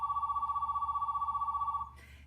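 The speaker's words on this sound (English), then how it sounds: "so I want you to hear the ring." A corded princess telephone rings with a loud, continuous electric trill lasting nearly two seconds, then cuts off sharply into a brief noisy clatter.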